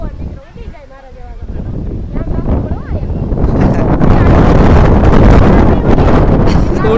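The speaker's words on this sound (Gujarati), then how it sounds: "પવન તો જો કેવો નીકળ્યો" Strong wind buffets the microphone at Uparkot Fort in Junagadh, rising into a loud, continuous roar after a brief quieter start, with a voice speaking early on.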